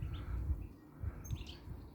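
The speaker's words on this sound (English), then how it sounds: "a couple of goldfinches have just come in" Goldfinches calling at a garden feeder, a few faint high chirps and twitters over a low rumbling background, distant and soft.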